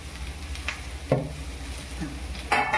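Okra tossed onto a hot tava with only a little oil, giving a steady low sizzle broken by two louder scraping stirs as the pieces are turned, with no voices.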